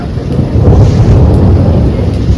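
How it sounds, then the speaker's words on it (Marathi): Heavy April thunderstorm rain pours in a steady, close roar with a low rumbling undertone and no clear pauses, in a village near Rajgurunagar, Pune. "विजांच्या कडकडाटातला हा एप्रिल महिन्यातला पाऊस"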